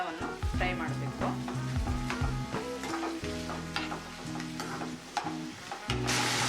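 Green beans, carrot, peas and kohlrabi sizzle steadily in hot oil for vegetable pulao, with repeated scraping stirs of a spatula through the pan, close and continuous.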